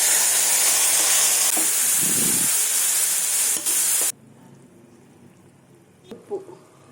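Raw mango pieces go into a hot tempering of garlic, chillies and curry leaves for mango dal. A loud hissing sizzle runs for about four seconds, then cuts off, leaving quiet room tone and a few soft clinks.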